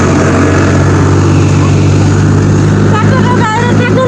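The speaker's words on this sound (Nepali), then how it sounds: "कस्तो ट्र्याक्टर आइदिएको क्या" Loud, steady rumble of a tractor engine on a road, droning close by throughout with no break and a voice speaking over it.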